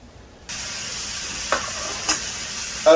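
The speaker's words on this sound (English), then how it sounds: "So I added my steak to my pan." Steak sears in hot oil in a pan, a sudden sizzle that bursts in after a brief silence and continues as a steady hiss with a couple of brief louder pops, no talking.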